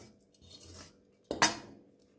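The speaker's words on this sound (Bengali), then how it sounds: "ঢাকনাটা তুলে নিচ্ছি।" A lid lifted off a cooking pot while making Odisha kakara pitha, a soft metallic clatter and scrape in two short bursts, the second sharper and brighter, heard close up with no talking.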